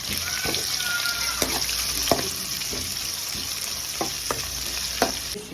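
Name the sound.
sautéing sweet onion with garlic and green chilli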